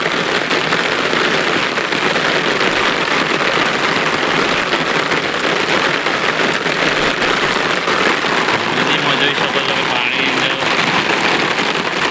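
Heavy rain pours steadily over the Khari river and its bridge, a dense, unbroken hiss of drops close by, loud and constant throughout with faint engine rumble beneath.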